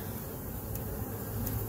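A dense, steady hum of Carniolan honey bees swarms close around the garden hive, a continuous buzzing drone with no talk.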